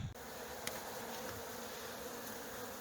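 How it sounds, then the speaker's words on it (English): Steady, dense buzzing of honeybees around an outdoor hive in early spring while they bring in pollen, a continuous close insect drone with no talking. "So the bees are bringing in pollen."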